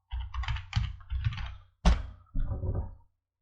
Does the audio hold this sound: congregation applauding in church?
no